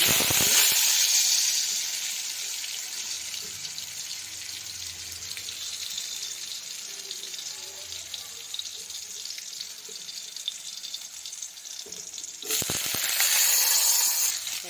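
Potatoes fry in a pan for a homemade Bengali vegetable chorchori, giving a steady close hiss and sizzle that swells louder at the start and again near the end, with no voices.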